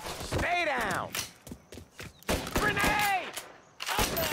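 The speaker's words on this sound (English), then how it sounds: "Nereden sıkıyorlar lan bunlar?" Gunfire in the Mafia Definitive Edition video game: sharp shots and bursts crack out in two clusters, mixed with shouting voices between them.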